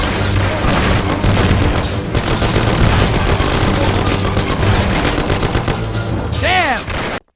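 Dense, continuous gunfire with machine-gun bursts and booms during a shootout in the Mafia video game, loud and sustained for several seconds before cutting off sharply at the end.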